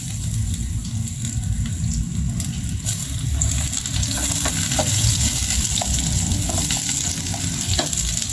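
Chopped garlic sautés in a hot pan for a budget Filipino dish, giving a loud, steady sizzle throughout with occasional small scraping clicks from stirring.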